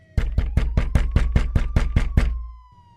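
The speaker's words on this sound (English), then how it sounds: "loud banging from the front door" Nine loud, evenly spaced bangs on a front door, heavy thuds in a steady rhythm with a faint tone humming underneath, then the pounding stops and the sound fades.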